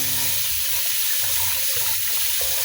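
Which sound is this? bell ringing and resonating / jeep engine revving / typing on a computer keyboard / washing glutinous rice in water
washing glutinous rice in water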